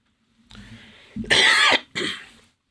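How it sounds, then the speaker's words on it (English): A single person coughs harshly a couple of times, close to the microphone, with a short throaty lead-in before the loud bursts. "Sorry for the cough, people."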